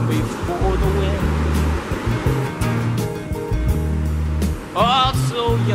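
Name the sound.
fast-flowing Elk River rushing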